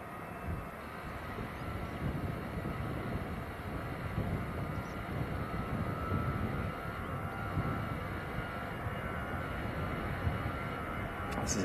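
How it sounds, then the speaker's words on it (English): Airbus A320 jet at Manchester Airport, a continuous broad engine roar holding steady throughout, moderately distant with wind rumble and no clear talk. "This is a good old Airbus A320."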